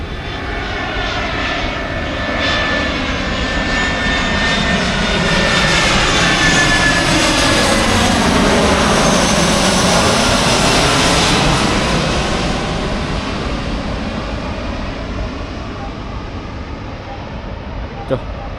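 Airplane flying overhead, a loud sustained engine roar that swells and fades with a sweeping pitch shift, while voices talk beneath it.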